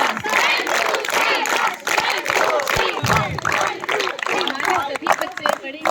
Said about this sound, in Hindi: अब हम एक नई ताली सीखेंगे जिसको शाबाश ताली बोलते हैं